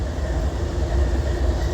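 A stalled freight train on a hill, its engine pulling against stretched cars, gives a steady deep rumble with low throbbing, heard continuously throughout.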